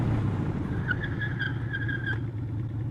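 A motorcycle's rear tire squeals in short pulsing bursts as it locks up under hard braking from about 35-40 mph, a high, wavering screech over a low engine rumble that stops abruptly.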